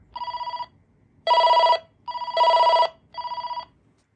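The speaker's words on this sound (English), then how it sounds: "The big thing that stood out to me was this bass ringer." Panasonic KX-TCM422 cordless phone sounding its bass ringer: loud, close electronic trilling bursts in an alternating pattern of five short pulses, with no voices.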